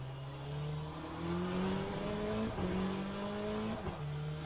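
An F1 car in the Le Mans Ultimate racing game climbs through the revs and snaps through two quick upshifts, each marked by a brief break in the engine tone before it pulls again.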